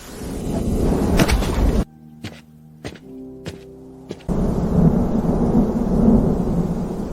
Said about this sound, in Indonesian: Badai akan datang.